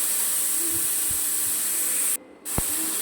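Grated beetroot and carrot fry in a pan for beet tikki with a loud, steady, spray-like hiss, a couple of soft stirring knocks, then a brief drop in the sizzle before it surges back.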